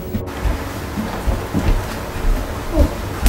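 Thunderstorm with steady heavy rain, broad rumbling wash with low thunder swells throughout, fairly loud and continuous, no voices.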